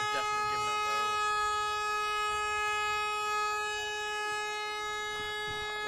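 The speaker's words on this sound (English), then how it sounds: "A very long blast on an air horn there as the Blitz look to run this ball upfield." A long, steady air horn blast sounds without a break across the whole stretch at an under-19s national championship American football game in Britain, over a constant bed of crowd and field noise.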